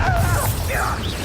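A Bombarda blast spell cast in Hogwarts Legacy gives a dense crashing burst with swirling magical whooshes, loud and close over a steady low rumble.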